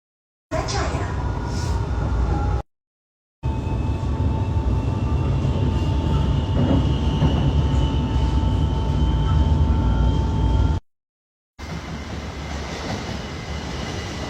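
Steady rumble of an LRT train in motion on a Kuala Lumpur line toward Putra Heights, a continuous loud low drone with a faint tonal whine, carrying on for the whole stretch apart from two short breaks.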